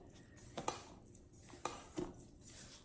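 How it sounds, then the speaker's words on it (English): Oats and flour being stirred in a bowl with a curved spatula while making a peach crisp, giving a few soft, quiet scrapes and light taps at irregular moments, with no talking. "So I'm just making sure the oats and the flour are mixed together well."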